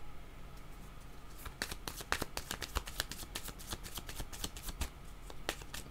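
Tarot cards are shuffled by hand in quick rapid riffles, a rhythmic burst of crisp flicks and snaps that builds after a quiet second and runs close and clear to the end.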